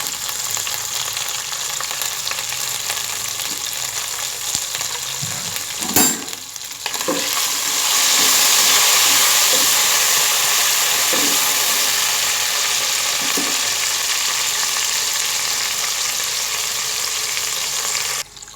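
Water poured into a hot pan of matar pulao holding ginger-garlic paste and whole spices, bursting into a loud, steady sizzling hiss that carries on after a quieter frying crackle.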